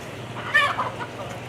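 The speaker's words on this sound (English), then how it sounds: "And we got lots of chickens." Chickens of several species at Gulf Breeze Zoo in Florida give a brief, close cluck over soft outdoor ambience.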